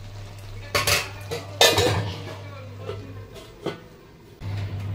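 A metal lid is set onto a cooking pot of pumpkin with prawns. Several sharp metallic clanks and rattles come close-up over a low steady hum, and it ends with quieter clinks.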